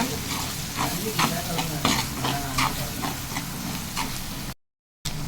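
Chicken masala with turmeric and garam masala sautéing in a pan, a steady sizzle broken by repeated scrapes and stirs of a spoon, close and fairly loud, cut off by a brief gap near the end.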